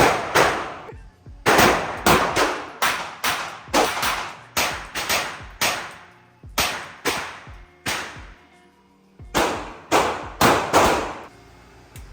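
Gunshots in a shooting video game, loud and close, fired as about eighteen sharp single reports in irregular bursts with short decaying tails and brief gaps.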